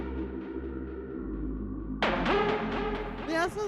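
A deep, sustained synth bass drone hums low, then brighter, wavering tones burst in over it about halfway through, growing busier toward the end.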